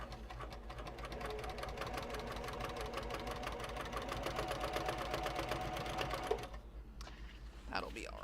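Rapid, even mechanical chatter of a sewing machine stitching canvas car trash cans inside a bus, running steadily for about six seconds before stopping, with soft sounds after.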